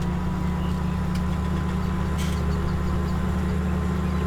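Tractor engine idling in Farming Simulator 17, a steady, continuous low rumble with a constant hum, close and loud with no talking over it.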